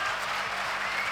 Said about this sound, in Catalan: Hi ha uns tímids aplaudiments.